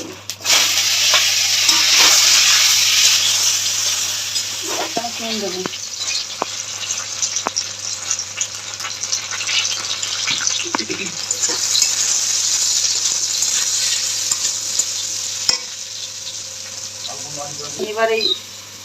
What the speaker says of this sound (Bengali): তিন রকম সবজি ভেজে তুললাম এই তেলে পাঁচ ফোরন ফোরন দিচ্ছি